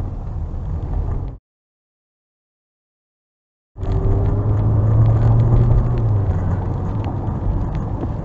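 A car drives through a severe storm near northwest Houston during a tornado and derecho, giving a steady low road rumble. The sound cuts to complete silence for a couple of seconds, then the droning rumble resumes.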